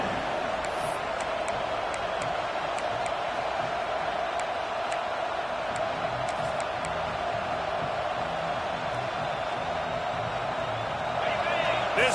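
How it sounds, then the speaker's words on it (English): A football stadium crowd roaring steadily at a Georgia game, a dense and constant wall of noise with a play-by-play voice talking over it. "This crowd trying to make life miserable for this offense"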